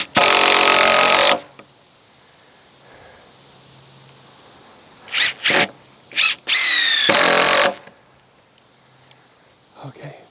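A power drill driving a screw into a log during a log cabin build, heard as a long whirring burst, several short trigger pulses, then another sustained run, loud and close with quiet pauses between.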